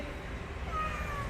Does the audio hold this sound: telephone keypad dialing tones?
no